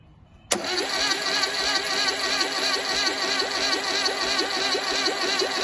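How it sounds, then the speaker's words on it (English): An engine fitted with ACDodd zero-tolerance oil pumps cranks slowly on a weak battery, starting abruptly after a quiet moment, then a steady rhythmic chugging crank repeating close and loud for several seconds. "the battery used in this test wasn't particularly full of energy, so it's quite a slow crank"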